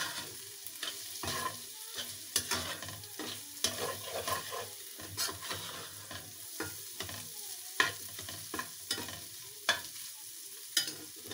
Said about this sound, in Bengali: এখন আমি পুরোটা মিক্সড করে নিচ্ছি।